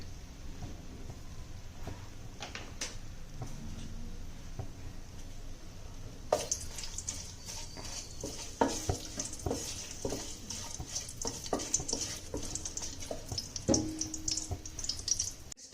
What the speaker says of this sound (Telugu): చెక్క వేసుకొని మంచిగా మిక్స్ చేసుకోవాలి